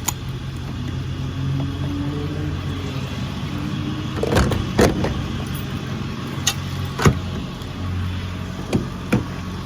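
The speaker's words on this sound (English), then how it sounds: "Unlocking the car would help." Car keys jangle and a car door unlocks with several sharp clicks and knocks, close by, over a steady low rumble of a car.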